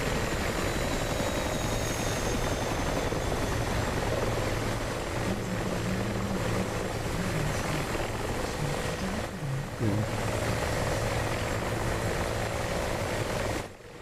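An Mi-24 helicopter flies in DCS World, a steady loud rotor and engine drone with a constant whine that persists close by throughout, then drops abruptly at the end.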